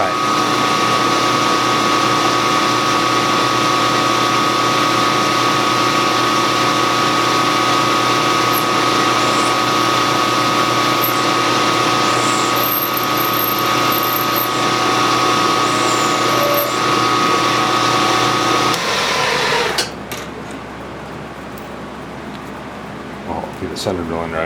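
A metal lathe runs steadily with a center drill cutting a crank, a constant machine whine and hum with a brief squeal partway through, then the motor winds down near the end.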